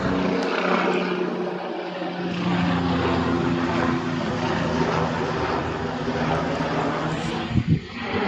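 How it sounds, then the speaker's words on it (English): A Department of Defense helicopter passes overhead, its rotor and engine making a steady, fairly loud droning hum with a constant low tone that holds throughout and swells slightly near the end. "That is a Department of Defense helicopter."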